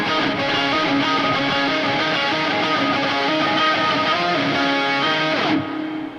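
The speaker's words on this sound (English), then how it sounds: "It's going through those same octave effects that I showed you earlier." A guitar lead runs through octave effects, dense layered tones sustaining over a full band mix for several seconds before cutting out near the end.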